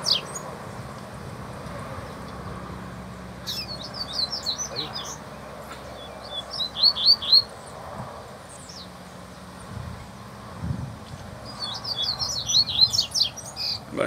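A caged coleiro seedeater sings in short bursts of rapid, choppy chirped phrases, fairly close but modest in level, separated by pauses over a low outdoor background rumble.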